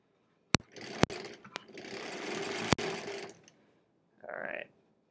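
A home sewing machine stitches quilt-as-you-go sampler blocks in a long steady whir of about three seconds, broken by sharp clicks, followed by a short separate mechanical burst after a pause.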